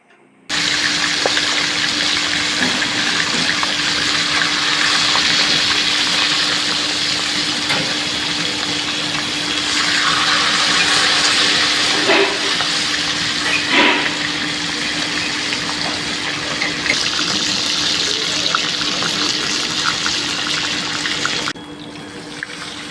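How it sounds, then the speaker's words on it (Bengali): Hilsa fish heads rubbed with salt and turmeric fry in hot mustard oil in a wok, a loud, close, continuous sizzle that runs steadily with a few brief crackles and no talk. "কড়াইতে সর্ষের তেল গরম করে মাথাগুলো ভেজে নেবো"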